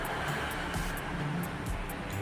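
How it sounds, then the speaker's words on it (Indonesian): Kurnia AW intercity bus on the Aceh–Medan route pulling in, a steady low engine rumble and road noise filling the scene at a moderate distance, with no talk over it. "Ini teman-teman juga bus masuk lagi nih teman-teman ya."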